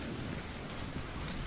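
Heavy rain pours down in a steady, dense roar with a low rumbling underneath, loud and continuous throughout.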